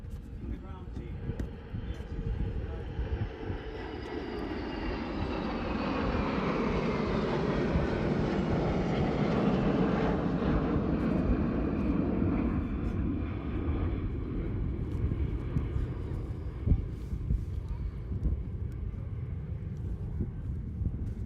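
Four F-16 fighter jets pass over an airfield at an air show, a broad roaring jet rumble that swells to a peak mid-pass and then fades slowly, with a crowd and voices in the background.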